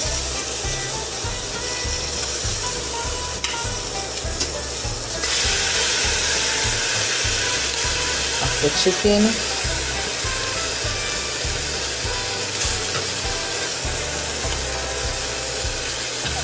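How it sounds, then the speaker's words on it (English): Steady loud sizzling of air-fried chicken in a hot pot, a constant crackling hiss with a brief spoken remark partway through. "You can hear the sizzling sound."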